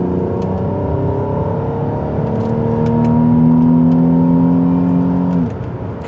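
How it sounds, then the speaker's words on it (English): A car's engine revs while driving, heard from inside as a steady droning hum with rising whirring tones that climb as it accelerates, then drop off sharply near the end, with no talk. "it can be a little over eager to rev, because it hasn't got the torque of the turbo diesel"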